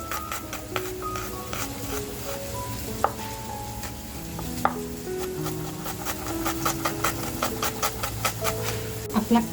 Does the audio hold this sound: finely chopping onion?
yes